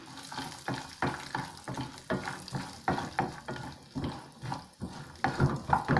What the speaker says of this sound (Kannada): ಸ್ವಲ್ಪ ರೋಸ್ಟ್ ಆಗೋ ತನಕ ಫ್ರೈ ಮಾಡಬೇಕು.